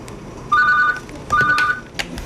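A telephone rings in two short electronic trilling bursts, clear and close, separated by a brief pause, with faint knocks afterward.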